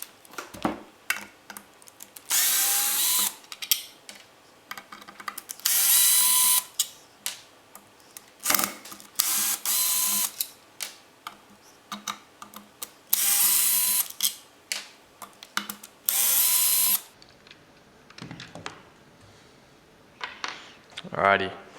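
Power screwdriver whirring in repeated short bursts, one per screw, as five screws come out of a Hitachi P20SB surfboard planer, with clicks and handling noise between runs and someone talking in the gaps.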